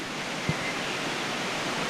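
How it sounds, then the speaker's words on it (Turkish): Steady broadband rush of the Tarsus waterfall flowing through the city, a constant wash of falling water with one brief low thump near the start. "şırıl şırıl akan Tarsus'un ünlü şelalesindeyiz"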